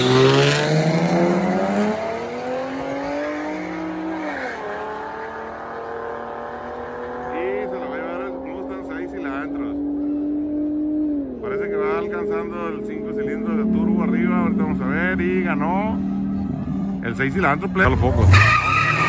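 Chevrolet Camaro launching at a nighttime drag race at the Culiacán autodrome, engine roaring and climbing in pitch through gear changes with a burst of tire squeal, loud and close while someone talks over it.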